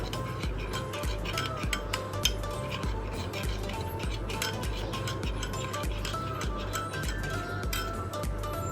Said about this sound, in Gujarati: એકદમ સરસ મિક્સ કરી લઈએ આપણે